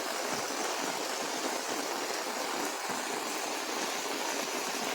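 Heavy floodwater rushing through the flooded Talawade market in Sindhudurg after torrential rain, a loud, steady broadband roar of flowing water that continues without a break.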